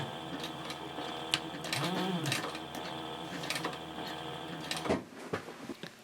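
A sewing machine stitches over an existing seam and back stitches across on a handbag, making a quiet, close mechanical whir with short pauses and clicks.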